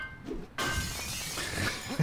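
Glass shatters in the Deus Ex video game, a sudden loud crash that bursts in after a brief quiet gap, followed by a spreading tinkle of breaking shards.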